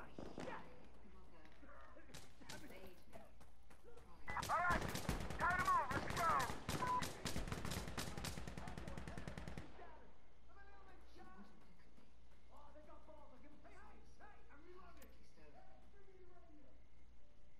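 Rapid automatic gunfire in the shooter game Insurgency: Sandstorm, a loud dense burst of about five seconds after a single earlier shot, with players talking before and after it.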